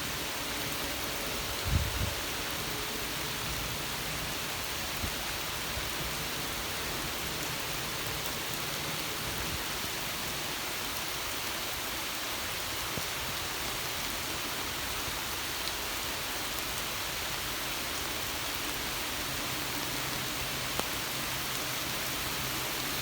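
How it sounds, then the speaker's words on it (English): Steady rain falls for over twenty seconds as a dense, even hiss with a faint low rumble underneath and no voices. "Thanks for the rain."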